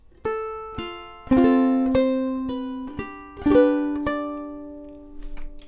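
A plucked ukulele plays a short phrase of the Irish folk reel "St. Anne's Reel", notes picked one at a time with a few ringing held tones, close and clear with no talking.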